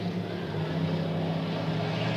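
Pure stock race cars lapping an oval track at a 1993 race, heard as a loud, continuous engine roar that holds steady and close, with no talking.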